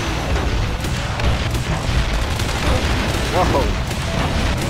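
Rockets exploding in the shooter game Shoot Many Robots, a dense run of booming blasts and gunfire rumbling continuously, with a man's brief startled exclamation over the din.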